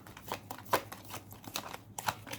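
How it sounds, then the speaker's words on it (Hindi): A deck of tarot cards is shuffled by hand, producing a run of quick, crisp riffling bursts in an uneven rhythm, close by and fairly soft. "जितनी देर तक मैं कार्ड को शफल कर रही हूँ"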